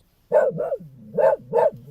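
A dog inside a car barks at a pedestrian: four loud, close barks, the first two and last two paired, with a low rumble between them and no talking.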